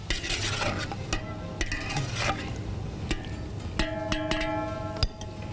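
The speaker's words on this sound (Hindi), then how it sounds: "इसको मैं मिक्स कर दूँ अच्छी तरह से" Meat is stirred and mixed in a cooking pot, a spoon scraping and knocking against the metal in irregular close strokes over a faint sizzle, with no talking.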